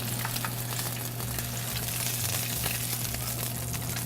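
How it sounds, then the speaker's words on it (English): Tuna steak searing on one side in a hot restaurant pan, a steady close sizzle and crackle of frying that continues throughout with no talk. "So we're just searing it on one side."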